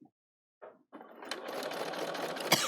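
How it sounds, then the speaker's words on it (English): A Bernina 770 sewing machine sews a straight line: a couple of brief starts, then a steady, close, rapid mechanical whirr and stitching rattle that keeps running to the end. "So I'll go up and I'll sew to the second line, go across."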